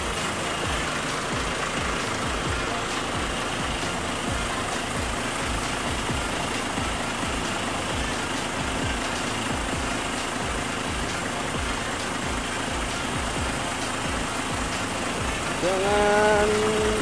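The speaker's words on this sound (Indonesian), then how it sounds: "menggunakan mesin belakang ini guys." A Hino rear-engined bus with Laksana bodywork idles steadily for the whole stretch, a constant low diesel rumble with a faint rhythmic knock. Near the end a short rising whine or tone appears over it.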